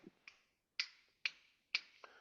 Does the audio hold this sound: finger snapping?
yes